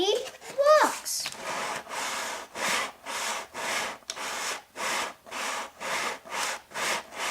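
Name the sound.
wheel turning in socket of cardboard box toy car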